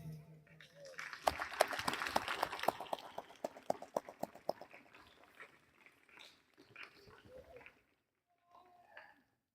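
A group claps to thank the head teacher at a Samarpan yoga and meditation gathering, a quick burst of fairly quiet, crisp hand claps that swells and then thins out into a few scattered claps.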